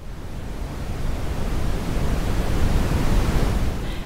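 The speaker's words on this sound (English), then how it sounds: "I actually always prefer brown noise, which is an actual thing, and it's similar to white noise" Steady, deep broadband brown noise plays continuously for a baby's sleep, a soft rushing hiss weighted toward low rumble, unchanging and alone.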